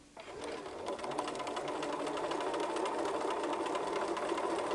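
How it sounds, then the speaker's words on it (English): A sewing machine stitches fabric beside a strip of tape to sew a dart, its fast, even mechanical whir starting abruptly and running steadily at close range with no talking. "now we're going to go to the sewing machine and start at the top and stitch just next to the tape"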